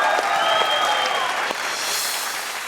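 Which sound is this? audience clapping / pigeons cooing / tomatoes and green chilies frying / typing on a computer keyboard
audience clapping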